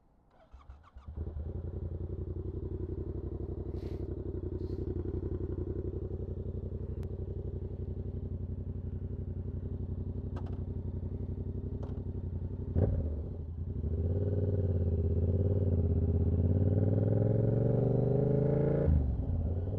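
A Yamaha R7 motorcycle engine starts after a few clicks and settles into a loud, steady idle close by, then revs up sharply near the end.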